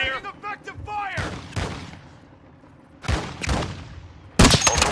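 Bursts of gunfire in a squad-based shooter video game, several loud volleys separated by pauses, with someone talking between and over the shots.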